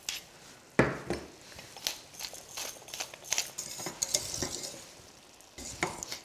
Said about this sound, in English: we need to keep whisking all the time to stop it going lumpy